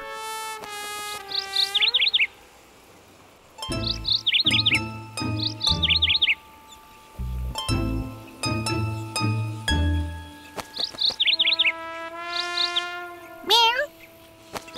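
Bursts of bright, rapid bird chirps and trills from a bird near a scarecrow recur throughout a Postman Pat cartoon scene, mixed with other tonal sounds and clattering noises.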